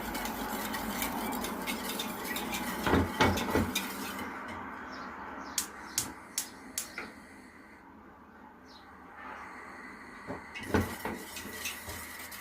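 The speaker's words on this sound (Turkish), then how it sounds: "Ve karıştırmaya devam ediyorum." A spoon stirs tiramisu cream in a pot on the stove, with scraping and clinks of utensil against metal in bursts, a few sharp taps and quieter stretches between.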